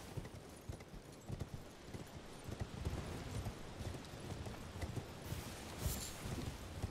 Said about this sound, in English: It's gonna take me a while to remember that I do have a horsey.